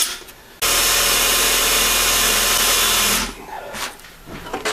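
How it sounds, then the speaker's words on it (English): A power drill with a 1/4 inch bit grinds loudly into metal for about three seconds, a harsh steady whine up close, then winds down to quiet shop noise. "we're going to just start to drill this out 1/4 inch"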